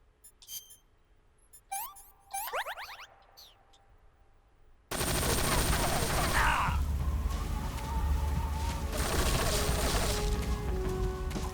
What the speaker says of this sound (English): I can't shoot her when she's shooting at me, remember?